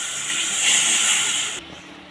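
Water poured into spices frying in a pan for a Bengali whole tomato chop, giving a loud, steady steam hiss that swells and then drops off sharply into a quieter sizzle.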